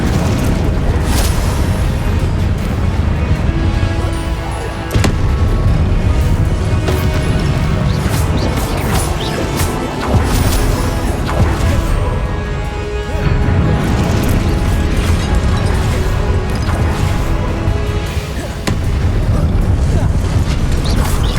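Confringo fire spell explosions in the video game Hogwarts Legacy, with a dense, continuous run of loud booms and crashing blasts that overlap one after another.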